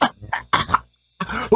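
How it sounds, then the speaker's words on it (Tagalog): A man coughs repeatedly in close, harsh bursts, several quick hacks, a brief pause, then more coughing. "nagsusunod-sunod ang pag-ubo ko."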